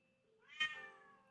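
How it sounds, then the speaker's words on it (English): A single cat's meow, rising and bending in pitch, loud and close against a quiet background, with no talking. "nobody's gonna hear you meow"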